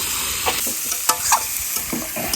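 Potatoes go into a pan of sautéed local duck meat at an outdoor picnic, with a loud steady sizzle and close scraping stirs, punctuated by a few sharp clacks of the spoon against the pan.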